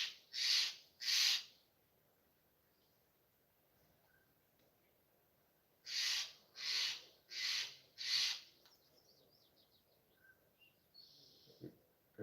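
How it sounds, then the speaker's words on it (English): An unidentified bird calls repeatedly outdoors. Two hoarse, evenly spaced calls are followed after a pause by four more in a steady rhythm. The calls are moderately distant against a quiet background, with a faint chirp near the end. "There's some bird that keeps going."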